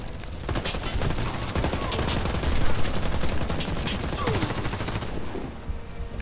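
Sustained gunfire from a Warface online shooter match, dense overlapping bursts and rattling automatic fire throughout, loud and continuous, with faint voices underneath.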